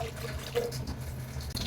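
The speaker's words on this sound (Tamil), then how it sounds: "இன்னொரு 1/2 கப்பு தண்ணி மட்டும் நான் சேர்த்துக்கிறேங்க" Water from a cup poured into a cooking pot of lentils being boiled for cabbage poriyal, a steady low splashing pour lasting under two seconds with no talk.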